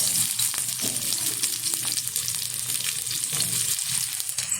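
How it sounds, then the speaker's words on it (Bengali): Chopped onions hit hot white oil in a wok and sizzle loudly and continuously, with fluctuating crackle and soft stirring scrapes throughout. "তেলটা গরম হয়ে গেছে তেলের মধ্যে দিয়ে দিচ্ছি কিছুটা কুচিয়ে রাখা পেঁয়াজ"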